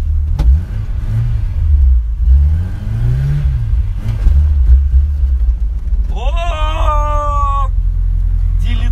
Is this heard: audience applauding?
no